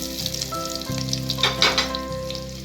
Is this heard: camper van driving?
no